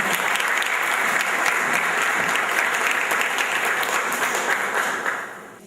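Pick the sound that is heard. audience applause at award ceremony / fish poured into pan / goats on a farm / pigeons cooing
audience applause at award ceremony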